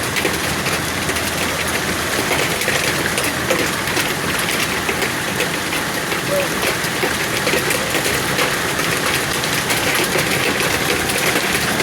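Large hailstones pound down during a summer hailstorm in Cardston, Alberta, a loud, dense, unbroken roar of impacts that holds steady throughout.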